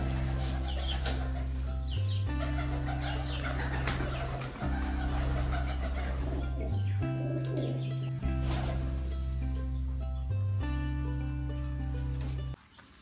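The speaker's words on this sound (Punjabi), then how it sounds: "ਦੇਖੋ ਹੁਣ ਸਾਰੇ ਕਬੂਤਰਾਂ ਨੇ ਵਾਰੀ ਵਾਰੀ ਆਉਣਾ ਤੇ ਆਪਦੀ ਖੁਰਾਕ ਖਾਣੀ ਆ।" Pigeons come to their feed one by one, with soft cooing and brief wing flaps over a steady, loud tonal hum that runs through the whole scene, and no talk.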